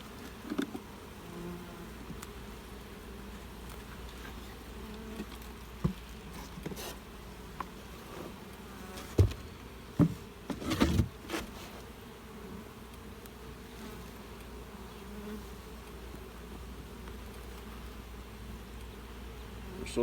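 Honeybees crowded across eight frames in a hive, humming in a steady, soft drone, with scattered light taps and clicks near the middle.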